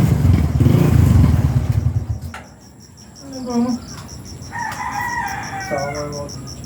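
A rooster crows in the middle distance over steady insect chirping and a high ringing tone, after a low rumbling noise fades out.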